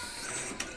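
A photocopier running an automatic two-sided copy gives a brief, steady mechanical whir and hiss with a small click partway through, fairly faint and with no talking.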